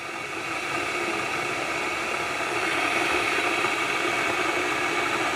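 Repaired electric kettle heating up, giving a steady broadband hiss and faint low hum that swells slightly as it warms, heard close and alone with no talk.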